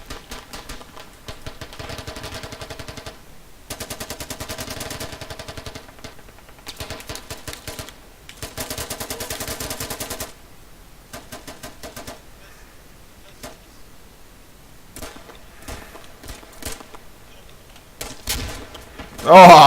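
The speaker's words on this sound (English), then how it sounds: "AK's going off." AK rifles firing in the military shooter Squad on the Al Basrah map, dense bursts of automatic fire repeating in clusters, mostly mid-distance, with a louder close burst near the end.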